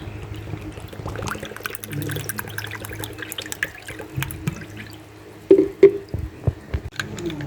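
Water pours from a tap into four scoops of powdered drink mix, a soft running and splashing stream with a few louder drips and sloshes near the end, heard close up without talk.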